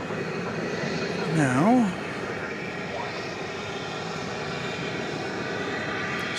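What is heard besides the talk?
Airbus A321 jet airliner, flight 2833, at DFW Airport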